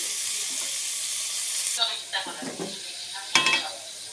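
Potatoes fry in a pan with a steady, close hiss that gives way to a few clinks and scrapes of stirring as the sizzle continues underneath.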